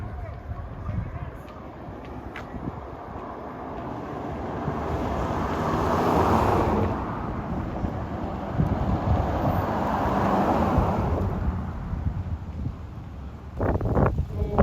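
Strong wind buffets the microphone by San Francisco Bay, a steady broadband roar that swells and eases over the span, with faint voices underneath and a louder gust near the end.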